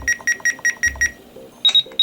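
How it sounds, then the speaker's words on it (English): Six quick, evenly spaced electronic beeps from the valid-key presses of a RadioShack 12-249 radio, followed by a few higher, shorter beeps, all close and clear with no talk. "I'm just cringing at the valid beeps"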